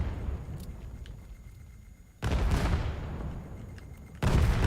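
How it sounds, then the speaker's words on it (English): Grenade blast and gunfire in the VR shooter VAIL during a competitive match: two heavy, broadband booms roughly two seconds apart, each followed by a rumbling tail, with faint metallic clicks and a steady high whine in between. "Oh, and Nero with a nice nade, bouncing off to the corner, catching one"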